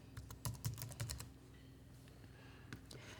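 Quick bursts of keystrokes on a computer keyboard as a field name is typed, a flurry of close, crisp clicks in the first second and a half, then a few scattered taps over a low steady hum.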